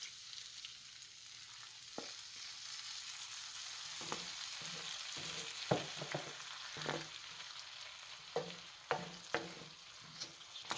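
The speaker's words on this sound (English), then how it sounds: "And next, I'll go in with the coconut cream." Coconut cream going into a hot cooking pan for salmon curry: a soft, steady sizzle with scattered light scraping and stirring taps, fairly quiet and without voices.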